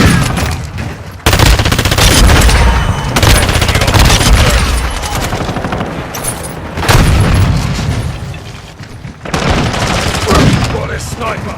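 Grenade explosions in a first-person shooter game land as loud, heavy booms amid near-constant rattling gunfire, with sharp surges at several points and voices calling out during the fight.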